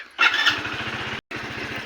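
A motorcycle engine starts up with a sharp burst, then settles into a steady, rhythmic idle close by, briefly cutting out for a moment.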